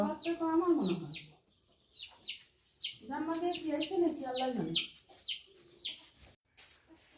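A village hen clucks while laying eggs. Repeated drawn-out, wavering clucks sound close by in two main bouts, with short sharp chirps from other birds in between. A person speaks briefly at the start.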